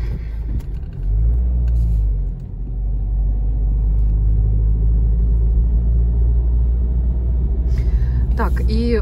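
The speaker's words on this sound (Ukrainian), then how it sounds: "Щось у нас тут трафік такий, машин багато." Heavy road traffic in France rolls past as a continuous low engine rumble with cars passing one after another, nearby and fairly loud, with a brief higher sound near the end.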